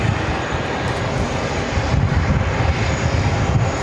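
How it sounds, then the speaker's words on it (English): An Emirates A380 airliner on its takeoff run at JFK gives off a loud, steady broadband engine roar that fills the air without letup, with no voices over it. "Emirates A380 Super heading back to Dubai, flight 204, number 3 for takeoff on runway 13 right."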